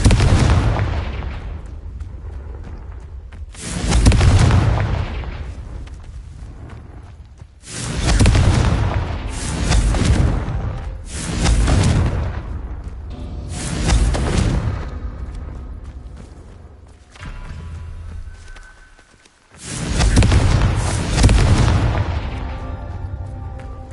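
Repeated explosive blasts from the Confringo spell in the video game Hogwarts Legacy, about six loud booming bursts spaced a few seconds apart, each with a sharp onset and a rumbling decay.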